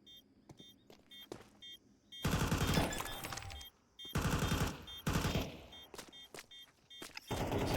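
Rapid bursts of gunfire in a Counter-Strike esports match, loud repeated volleys of automatic shots in two long stretches separated by quieter sharp single cracks and small game sounds.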